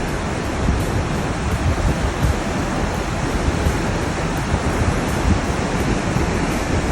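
A flooded river rushes loudly and steadily with churning waves, a dense continuous roar of water close by with no let-up across the whole stretch.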